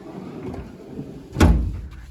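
A drawer on a Matco or Williams steel top tool chest slides open in one quick, close rolling swish that ends with a soft metallic knock after a short stretch of quiet handling sounds.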